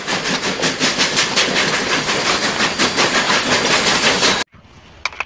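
Loud, steady rumble of a video game locomotive train with rhythmic clattering and hissing, running continuously before cutting off abruptly near the end.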